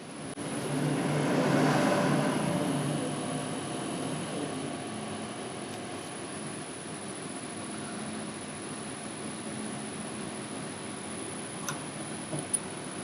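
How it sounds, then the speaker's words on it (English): A left-hand drill bit spins in reverse to drill out a broken pilot jet from a Keihin CVK carburetor, giving a steady whirring drone that swells early and then holds evenly, with a couple of faint ticks near the end. "it's a left-hand drill bit, so we're running in reverse"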